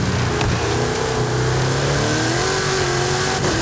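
A car engine in the Forza Horizon 5 racing game revs hard and steady, its rising and falling whine filling the moment loud and close with no talking over it.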